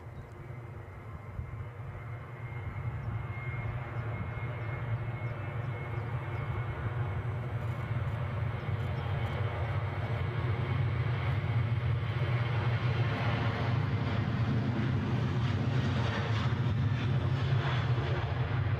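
A passenger jet takes off from Edinburgh Airport bound for Tenerife, its engines a broad, steady roar that builds over the first few seconds and then holds loud and constant, with no voices.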